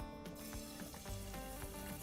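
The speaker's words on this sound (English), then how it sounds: "It's the sound you want when you're searing. If it doesn't make that noise, it's not going to get the good crust. That sizzle." Wood duck breasts sear in a hot pan, giving a steady, loud sizzle with faint crackles and spatters throughout.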